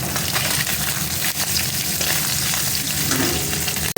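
Small morola fish sizzling hard in a pan of hot oil, a dense continuous crackling fry with faint stirring, ending in a brief sharp knock.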